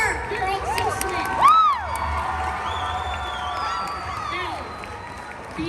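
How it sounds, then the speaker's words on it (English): Audience at The Amazing Digital Circus panel at the LVL UP 2025 convention cheers and whoops, a steady crowd roar with high shouts and brief clapping, one loud yell standing out early and a voice speaking briefly over it. "Clap louder."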